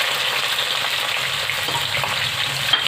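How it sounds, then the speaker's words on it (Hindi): Chopped onions fry in hot oil in a pan for beef keema pulao, giving a loud, continuous, close-up crackling sizzle throughout with no talking. "प्याज को फ्राई कर लेंगे"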